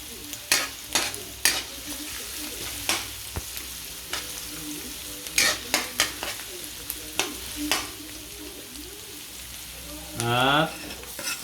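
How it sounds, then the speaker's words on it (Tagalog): Ginger and garlic sautéing in a hot pan, a faint steady sizzle broken by repeated sharp scrapes and clinks of a spatula stirring, with a brief louder hiss near the end. "pag mainit na, gigisa natin tong luya. Isabay na rin natin yung bawang"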